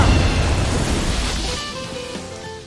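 Phoenix Cyclone attack from Tales of Arise, a loud roaring whoosh of fiery wind that swells at once and gradually fades over a few seconds, with bright ringing tones emerging as it dies down.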